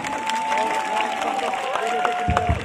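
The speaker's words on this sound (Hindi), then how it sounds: "एक बड़ी जोरदार ताली आप लोग अपने लिए बजा दीजिए जरा" Audience clapping at a Holi celebration at Indirapuram Habitat Centre, a steady crowd patter under loud amplified talk, with a held tone running through and a few heavier bumps near the end.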